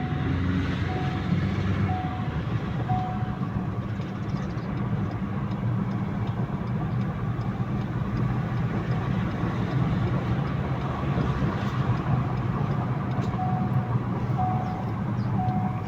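A Ford Ranger Raptor in limp mode, running low on power, is driven on a road test, giving a steady drone of engine and road noise from inside the cabin with no talk.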